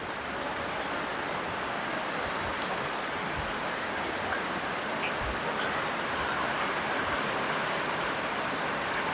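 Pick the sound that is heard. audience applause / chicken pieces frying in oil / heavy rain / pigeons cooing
heavy rain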